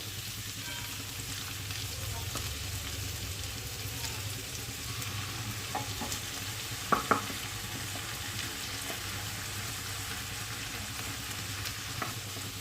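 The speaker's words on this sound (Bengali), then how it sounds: "আদা রসুন বাটাটা ভালো করে ভেজে নিতে হবে" Ginger-garlic paste frying in oil with green chillies in a pan, a steady soft sizzle throughout with a couple of faint stirring clinks near the middle.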